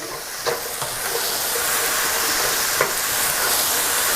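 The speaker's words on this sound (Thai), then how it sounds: "ก็เอามาผัดให้ต้นหอมสลดนิดนึง ไฟแรงได้เลยนะครับ" Chicken with scallions stir-fried over high heat in a wok, a continuous loud sizzling hiss with a few soft clatters of stirring near the start.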